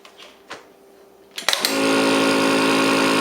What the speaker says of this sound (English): now we're going to put this in the vacuum machine